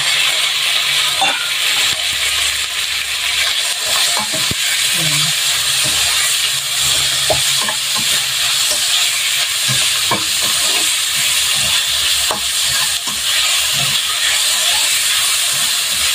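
Pork belly sautés in a hot pan beside tomatoes for a pork and eggplant dish, a loud, constant sizzle and hiss close up with scattered clicks and scrapes of stirring.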